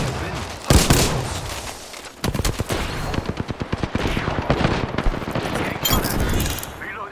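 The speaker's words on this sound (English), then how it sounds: "Enemies are shooting at me." Rapid automatic gunfire in a battle-royale video game, enemy fire arriving in dense crackling bursts with sharp individual shots close by, continuing through most of the stretch under faint voice.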